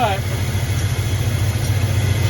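An old Chevrolet C10 shortbed service-rig truck engine idles just after its first start in many years, a steady low rumble running throughout, close by and fairly loud.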